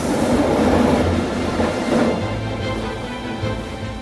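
The Orient Express train roars loudly as it enters a tunnel, a dense rumble of wheels and rushing air that dips slightly partway through, steady and close with no talk.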